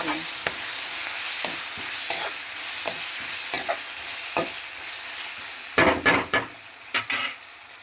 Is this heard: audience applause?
no